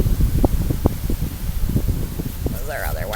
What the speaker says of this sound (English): It's so windy out here, the board almost hit me in the face.